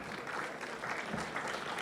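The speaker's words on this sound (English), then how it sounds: "A round of applause for all the founders that have pitched with us tonight." An audience at a startup pitch event claps steadily throughout, a dense patter of applause at moderate volume.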